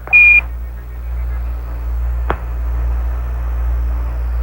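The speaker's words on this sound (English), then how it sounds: "Give us a reading on the 1202 program alarm" Beeping alarm on the Apollo 11 lunar module during the landing approach: one short, steady electronic tone at the start over constant radio static and hiss, then a brief click-like burst partway through.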